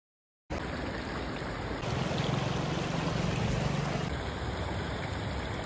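A mountain stream rushing with a dense, steady hiss of flowing water, close and loud, growing slightly fuller midway and continuing unbroken without voices.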